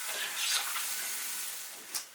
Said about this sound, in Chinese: 猪心下锅煮